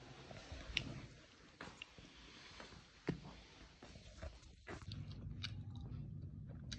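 Homemade halwa made with desi ghee being eaten, giving soft close-up chewing and biting sounds with a few small crunchy clicks, steady and quiet throughout.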